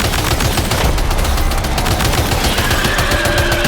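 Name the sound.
assault rifle gunfire in the video game Death Stranding 2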